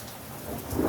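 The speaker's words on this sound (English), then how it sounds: "as soon as the thunder and lightning slows down, I guess I'm just going to do this bare knuckled and in the rain" A thunderstorm pours heavy, steady rain while a deep roll of thunder swells loudly toward the end of the brief moment.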